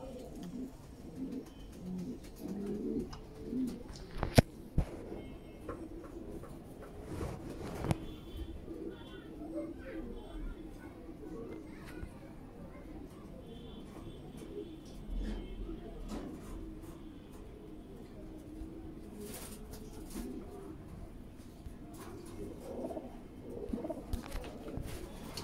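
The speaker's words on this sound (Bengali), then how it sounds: "ভিউয়ার্স আপনারা দেখতেছেন এক পিস গোল্ডেন ডান লাহোরি মেল, 10 পর কমপ্লিট একটি মেল, অনেক সুন্দর।" Golden dun Lahori pigeons cooing softly and repeatedly nearby, with someone talking over them and occasional handling knocks.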